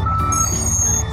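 A car carrier truck backing up, its reversing alarm sounding a loud steady high beep over the deep rumble of the idling truck engine.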